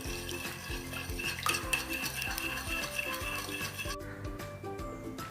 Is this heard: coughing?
no